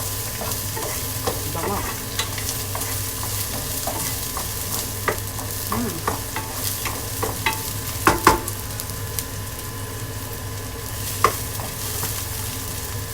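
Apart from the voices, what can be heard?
garlic frying and being stirred in pan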